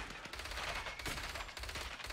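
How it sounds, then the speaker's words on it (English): Gunfire sound effects from the video game Scavengers: rapid automatic bursts rattle continuously for about two seconds, loud and dense with sharp repeated cracks and no voices over them. "the gun sound effects are not very good"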